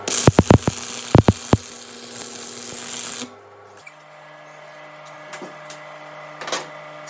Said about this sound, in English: I'm going to be using this 3/32 6013. So hopefully it'll hold while I weld it.